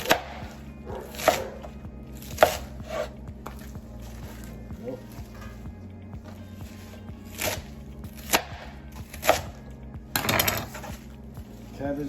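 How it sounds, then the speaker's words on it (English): A knife chops diagonally through cabbage greens, leaf and hard center, for kimchi on a cutting board, giving a series of sharp, fairly close cuts at irregular intervals, with a brief rapid burst near the end over a low background hum. "Now we cut the greens diagonally."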